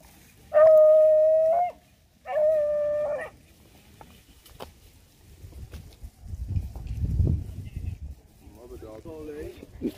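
Hunting dogs bay on a rabbit trail, two long sustained howls near the start, then faint rustling and low movement through brush with a few distant yelps at the end.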